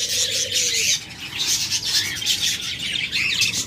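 Big, high-quality pet lovebirds chirp busily in a dense, continuous chatter of high tweets, with a bit of wing flapping now and then and no voices.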